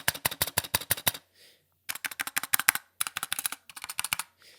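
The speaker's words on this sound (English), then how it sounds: "this is just the space bar. I'm not even typing it, like I'm not even pushing it. I'm just gonna like tap it." A loose space bar on a budget Havit keyboard tapped repeatedly in quick bursts of sharp clicky rattles, close and clear with short pauses between runs.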